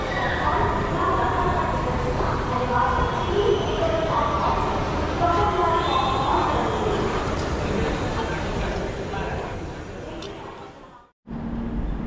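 A Jan Shatabdi Express arriving at Kankavli railway station: a loud, steady, broad rumble and rushing roar that holds for about eleven seconds, then cuts off abruptly.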